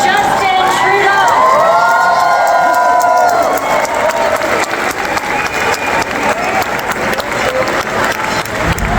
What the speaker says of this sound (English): Let's make sure we give them all a round of applause, please.